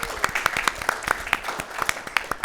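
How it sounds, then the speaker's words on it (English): Applause from a live audience for a communications team at a pitch event, a steady wash of many hands with sharper individual claps popping through, fairly close and moderately loud. "communications team, round of applause for them."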